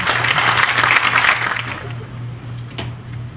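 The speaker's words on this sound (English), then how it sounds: "Round of applause. Please." Audience applause at a special lecture at the University of Santo Tomas, a dense burst of clapping that is loudest at first and then thins out over a few seconds.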